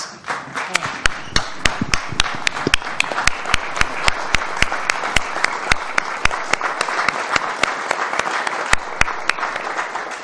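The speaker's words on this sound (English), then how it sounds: "please join me in giving not only as applause to Dr. Jagdish Sheth, but a standing ovation, please" An audience gives a lecture guest sustained applause and a standing ovation, with dense clapping and sharp individual claps standing out over the steady crowd roar throughout.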